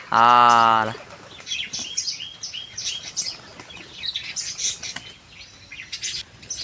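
A loud harmonic tone opens briefly, then rapid bursts of wing flapping and rustling follow irregularly, close by, with faint chirps.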